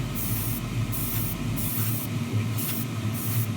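Spray paint is applied to chassis parts of a 1:24 Tamiya Ferrari LaFerrari model kit, producing loud, close, hissing bursts in repeated pulses, each lasting about half a second.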